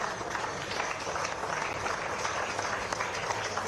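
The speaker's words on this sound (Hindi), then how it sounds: "एक बार आप सबकी जोरदार तालियां।" An audience at a government ceremony applauds, a dense, even wash of clapping from many people at moderate distance, continuing steadily without pauses.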